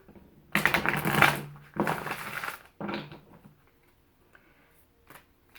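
A deck of tarot cards is shuffled in three quick riffling bursts, close and crisp, followed by a few soft taps and near silence.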